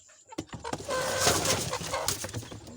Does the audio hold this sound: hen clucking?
yes